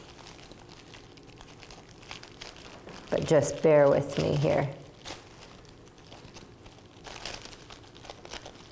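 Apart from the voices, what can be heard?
pattern paper crinkling as it is pulled off taped fabric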